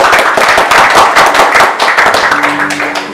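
A church congregation applauds during a Sunday sermon, dense loud clapping from many hands that fills the space and tapers near the end as a low organ-like tone enters.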